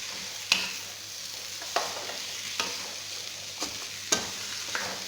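Mixed vegetables with green pepper are stir-fried in a pan: a soft sizzle runs underneath while spatula scrapes and clacks land every second or so, close and fairly quiet, with no talking.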